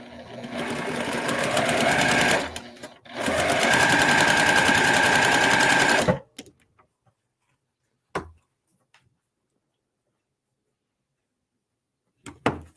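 Sewing machine stitching quilt block pieces with a quarter-inch foot, two loud sustained motor runs split by a short pause, then quiet with a few faint clicks and handling bumps.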